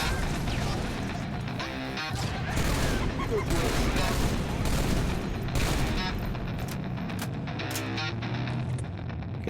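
Battle rifles fire in Halo Reach, with repeated sharp bursts and crashing impacts in a busy firefight, loud and near, and someone talks over the shooting.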